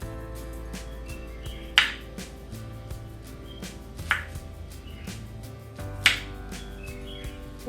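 A knife cuts through kantola (spiny gourd) in three sharp, distinct crunching chops spaced about two seconds apart, set against a quiet kitchen background with faint knocks.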